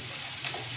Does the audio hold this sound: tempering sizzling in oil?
yes